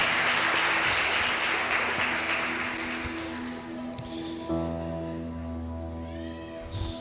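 A church congregation applauds a couple, a dense burst of clapping that fades over a few seconds and gives way to a quieter room with a sustained tone.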